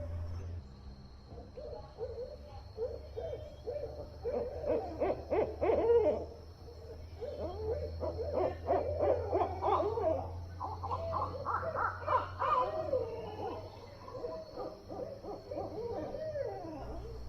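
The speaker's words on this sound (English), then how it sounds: "there seemed to be a whole group calling back and forth to each other" Owls hooting back and forth at night in a Florida preserve, a group of repeated calls at middling distance, rising and falling over a steady low hum.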